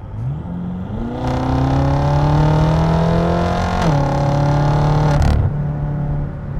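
A BMW M6 fitted with new downpipes accelerates hard, its engine note rising sharply through a gear change with loud exhaust roar and a crackle as it lifts off, close and without talk.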